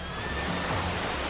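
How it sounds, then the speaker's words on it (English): An amusement park safari ride vehicle plunges from an off-road track into water, giving a broad, steady rushing splash that sounds close and loud, with no voices. "In the space of a few seconds, the off-road safari becomes an in-water ride."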